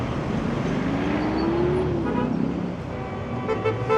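Dense traffic at a busy Kabul intersection near Qasr-e Shahi wedding hall rumbles continuously, with engines, a short horn toot and a faint voice in the mix.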